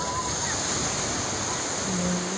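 Broadband ocean surf rolling in at a Tel Aviv beach, a continuous soft wash of waves at moderate distance with no talk over it.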